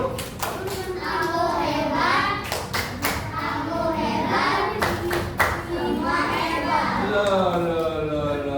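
Children clap in a rhythmic patterned classroom cheer, sharp hand claps grouped in quick bursts while young voices chant along loudly throughout.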